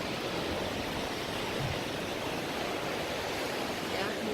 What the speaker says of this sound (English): It's got some nice waves though.